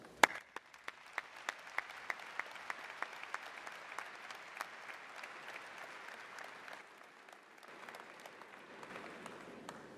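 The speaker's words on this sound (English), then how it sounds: "Please join me in congratulating them with a round of applause." A commencement audience at Penn State's Smeal College of Business, spring 2024, breaks into a round of applause. Crisp individual claps stand out at first, then merge into a steady, moderately distant wash of clapping that holds for about ten seconds.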